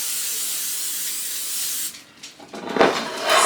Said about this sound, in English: I'm just going to spray it with a little oil.